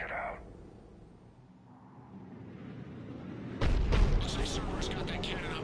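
A Cerberus cannon fires in the Mass Effect 3 game: a low rumbling lull gives way to one sudden heavy boom that rolls on as a loud sustained roar.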